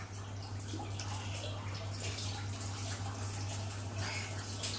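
Water runs steadily from a kitchen tap while a spoon is rinsed under it, a continuous close splashing wash with a low steady hum underneath.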